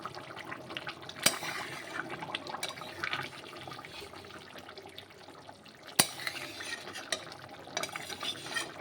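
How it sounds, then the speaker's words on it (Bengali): A spoon stirs a simmering snakehead fish curry with taro and fresh coriander leaves, low bubbling and scraping running throughout with two sharp knocks against the pot, no one talking. "ধনেপাতা দিয়ে আবার একটু নেড়ে চেড়ে ঝোলটা ভালো করে ফুটিয়ে নেব"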